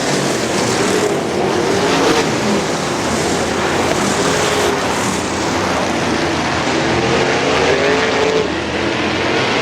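Sprint cars, winged and non-winged, race on the dirt oval at Butler Battlegrounds in Quincy, a steady loud engine roar filling the whole stretch without a break.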